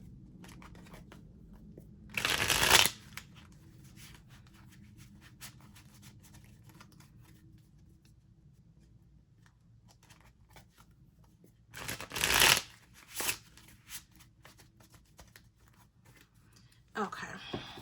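A tarot deck is shuffled close up in a few short, loud riffling bursts separated by long quiet stretches, with faint handling noise between them.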